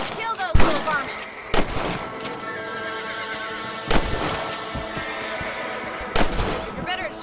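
Gunshots in Red Dead Redemption while shooting rabbits, four loud sharp cracks spaced a second or more apart, each ringing out, with a horse whinnying near the start and speech in between.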